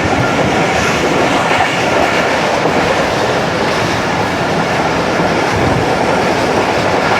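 A Pak Business Express passenger train runs through Gambar railway station in early morning on the Rohri to Karachi line, making a loud, steady rumble with continuous clickety-clack of wheels on rails throughout.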